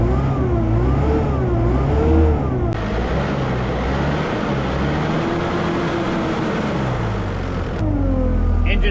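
A machine engine that sat unused for years idles and runs steadily with a low, even rumble and a slight rise and fall in pitch, close and fairly loud.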